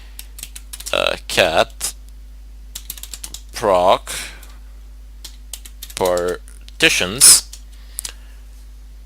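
Someone types a Linux command on a computer keyboard, sharp scattered keystroke clicks falling between stretches of a person talking.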